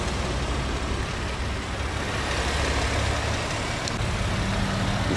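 A Chevrolet Captiva's engine runs steadily at idle, a continuous low rumble close by and fairly loud throughout, with no voices over it.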